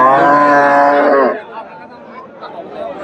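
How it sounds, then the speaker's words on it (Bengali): A crossbred dairy cow lows loudly at a busy cattle market, one long, harmonically rich moo up close, then a crowd murmuring in the background. "দর্শক এখানে একটা ক্রসের গাভী দেখতেছি"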